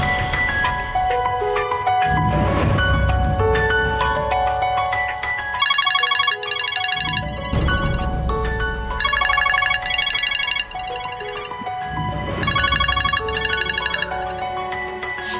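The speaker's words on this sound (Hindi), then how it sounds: "इतनी देर से फोन कर रही है, फोन ही नहीं उठा रही।" A phone rings repeatedly in a steady electronic ringtone pattern, several bursts of ring tones repeating over about fifteen seconds with no one picking up, loud and close with background music underneath.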